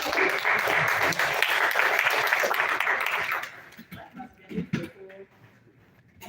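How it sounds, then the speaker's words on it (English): An audience at a talk on national literature and Kiswahili fasihi claps loudly for a few seconds, then the applause fades into scattered claps and murmuring voices. "Can you clap?"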